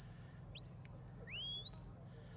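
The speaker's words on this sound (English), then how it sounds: "Big flank whistle now for the turn" Shepherd's flank whistles directing a sheepdog at an international supreme qualifying trial, two rising, sustained high-pitched whistles at moderate distance over a low outdoor rumble.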